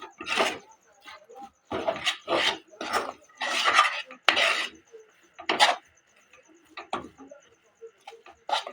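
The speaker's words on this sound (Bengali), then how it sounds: "দিয়ে দেবো অল্প করে চাট মশলা, দিয়ে আমি এটাকে ভালো করে মিশিয়ে দেব সুন্দর করে।" Peas mixed with chaat masala are stirred in a pan, producing a series of separate scraping and clinking strokes of a utensil against metal with short quiet gaps between them.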